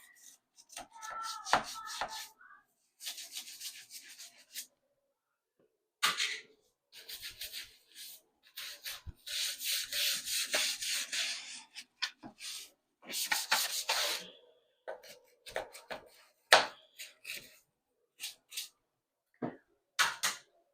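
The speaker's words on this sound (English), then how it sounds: "Hopefully my mic is working and you guys can hear the scrubbing." Close, quiet bursts of brisk brush scrubbing against a hard bathroom surface, in irregular strokes separated by short pauses.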